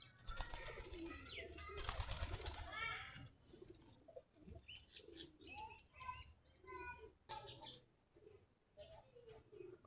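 A flock of forty or more pairs of domestic Giribaz pigeons cooing near a well in the morning, soft repeated rolling coos with chirps and wing flaps, faint and close, with a voice speaking at times over them.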